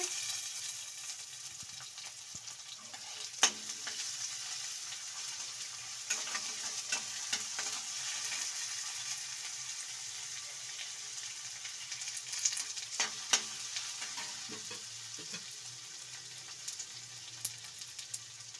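Green gram and lentils fry in a pan with onions, a soft continuous sizzle broken by scattered scrapes and stirring knocks from a spoon.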